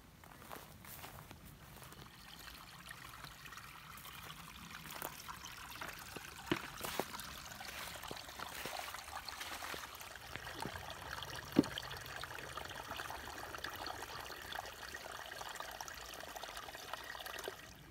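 Water trickles quietly and steadily into bottles at a water source on the Pacific Crest Trail, with faint footsteps and rustling around it outdoors.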